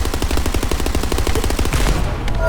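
Rapid automatic gunfire from a video game shooter, The First Descendant, a fast steady stream of loud repeated shots lasting throughout with no talk over it.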